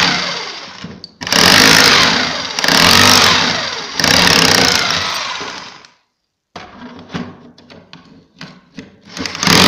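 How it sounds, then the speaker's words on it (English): A loud, harsh hammer drill grinds in several sustained bursts with brief pauses while removing components from a motherboard, then shorter irregular bursts follow after a moment of silence. "And now with the drill hammer,"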